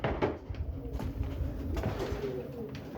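Soft cooing from racing pigeons in an aviary murmurs low amid a steady background hum, with a few faint bird calls scattered through the short stretch.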